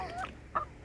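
A two- to three-year-old laying hen with an injured leg gives two short, soft clucks close by, separated by a brief pause, in a quiet farmyard.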